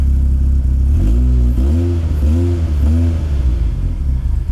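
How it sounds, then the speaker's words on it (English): A car engine with an exhaust leak at the muffler joint revs several times in quick succession, loud and close, with a rough, rumbling idle between the blips. "there is a hole or a leak from that muffler, or like that join right there in the exhaust"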